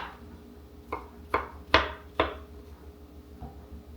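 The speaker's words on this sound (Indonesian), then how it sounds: "ini juga jamur harus diiris tipis-tipis" Fresh mushrooms sliced thinly with a knife on a board, giving five crisp chopping taps spaced roughly half a second apart, close and fairly loud, followed by one faint final cut.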